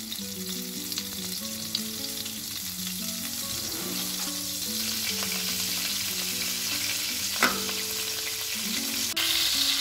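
Butter melts over medium heat in a hot pan for eggless kek batik, giving a continuous close sizzle and frying hiss, with brief stirring scrapes and music playing beneath.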